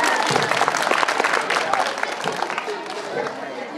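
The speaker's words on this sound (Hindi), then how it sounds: "और एक बार तालियां बजा दीजिए आप सभी।" An audience applauds at a poetry recital, full and lively at first and then slowly thinning, with some voices mixed in under the clapping.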